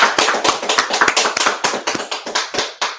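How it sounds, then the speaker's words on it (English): A close group claps hands in a loose, quick rhythm, loud and unaccompanied by talk, roughly a dozen sharp claps in a few seconds at a Passover gathering. "Let's clap it up."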